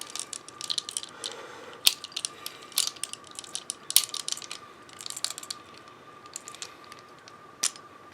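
Sharp metallic clicks, scrapes and ratcheting ticks of a Colt 1911 pistol part being pushed into place during reassembly, close and irregular with quiet gaps and no speech.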